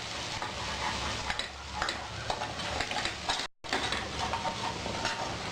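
Garam masala, coriander, cumin and chili powder stir-fried in a pan for a rajma curry, giving a steady scraping and sizzling rattle that runs close and continuous, with one brief cut near the middle.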